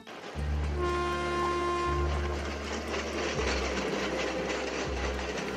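Bhagirathi Express passenger train at Plassey station, a steady, loud rumble with a sustained horn-like tonal blare over it, continuous rail noise throughout.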